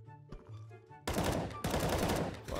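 Gunfire in CS:GO on a jailbreak server: after a quiet, tonal stretch, sudden loud bursts of rapid shots break out and run on dense and close, pausing once before resuming.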